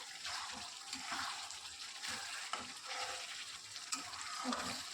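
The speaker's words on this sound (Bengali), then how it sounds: "এবার ভালোভাবে গরম মশলাটা দিয়ে চিকেনটাকে নাড়াচাড়া করে নেওয়া হচ্ছে।" Chicken being stirred with garam masala in a pan, quiet sizzling under repeated soft scraping and thick, wet stirring strokes in an irregular rhythm.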